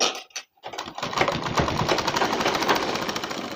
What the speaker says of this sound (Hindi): तो चलिए सिलाई लगा लेते हैं।